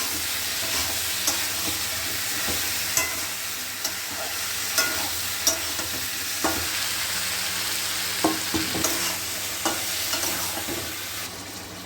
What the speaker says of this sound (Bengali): এবার এটাকে মশলার সাথে ভালো করে মেশাবো।